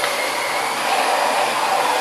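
A Dyson DC25 upright bagless vacuum cleaner runs steadily and close by, a loud continuous motor whine with a broad airy rush that holds even for two seconds, with no talking.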